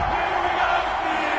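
Stadium crowd in an EA Sports NFL video game, Los Angeles Chargers against Pittsburgh Steelers, roaring and cheering in a dense, steady wash of noise with faint shouts for the whole brief moment.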